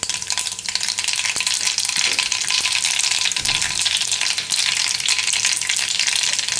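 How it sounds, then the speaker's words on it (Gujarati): Mustard seeds and cumin crackling in hot oil for Gujarati soya tikhari, a loud, steady close-up sizzle with sharp pops throughout, no talk. "તો તેલ આપણું ગરમ થઈ ગયું છે. તેમાં થોડીક આપણે રાઈ નાખીશું અને જીરું."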